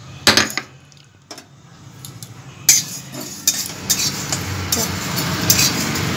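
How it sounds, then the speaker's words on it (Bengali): Whole spices (dried chilli, black pepper, fennel, cumin and coriander) dry-roasted in a dry wok over low heat, with a few sharp metallic clinks of a spoon early on, then a soft continuous rustling and scraping with occasional taps. "এগুলো আমি শুকনো কড়াইয়ে হালকা আঁচে ভেজে নিচ্ছি।"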